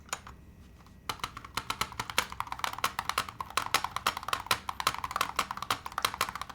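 Rapid, clacky typing on a keyboard with metal keycaps, a hollow, hard-edged sound, keystrokes tumbling in quick bursts after a brief quiet start.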